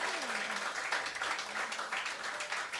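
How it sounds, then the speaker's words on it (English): Steady applause from an audience at a Memorial Day campfire festival rises for the musicians, dense clapping continuing evenly throughout with a faint voice underneath. "Let's give another round of applause to these wonderful musicians up here today."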